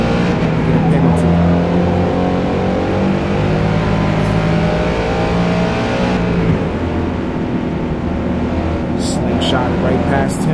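A Ford Mustang race car in Forza Motorsport drones loudly and steadily, its engine note rising and falling through shifts on the Grand Oak Raceway club circuit, with a driver speaking over it.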